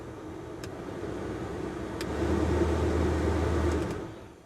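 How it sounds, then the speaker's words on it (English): A three-speed blower fan in the heater system of an AODES WorkCross 650 HV utility vehicle hums steadily and close by, with its low whir swelling louder partway through and then easing off. "So the blower has 3 speeds."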